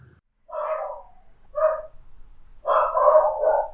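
Dogs bark near a countryside farm where sheep are being moved, three bursts of fairly loud barking with short gaps between them and nothing else around them.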